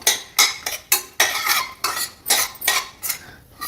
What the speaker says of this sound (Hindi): अब गैस बंद कर देंगे और उनको कर लेंगे अच्छे से मिक्स।